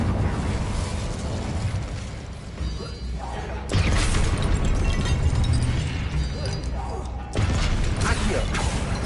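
Fire spell blasts cast in combat in Hogwarts Legacy, loud whooshing bursts repeating at about four-second intervals amid dense game noise, with voices heard briefly in the mix.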